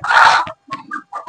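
A desi gavran rooster on a farm gives a loud, harsh squawk, then several short, clipped clucks separated by brief silences, close to the listener.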